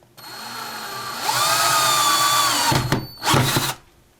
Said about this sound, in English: a cordless drill comes in very handy